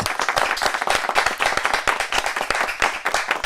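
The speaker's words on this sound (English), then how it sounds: "Ladies and gentlemen, a big round of applause." A live studio audience at a podcast recording claps to welcome a guest: close, crisp, rapid hand claps from a modest crowd, uneven and lively throughout without pause.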